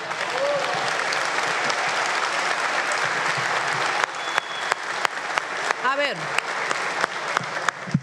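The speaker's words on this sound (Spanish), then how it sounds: "no aplaudan porque va a haber para todos" Applause fills a parliamentary chamber during a session, dense at first and then thinning into scattered claps as a voice begins speaking over it.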